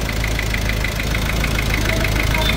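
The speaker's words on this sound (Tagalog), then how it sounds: "Ayan ang tunog ng makina." A Ford Ranger 2.2 engine runs steadily at close range, noisy, a constant rumbling idle with a faint regular ticking knock throughout.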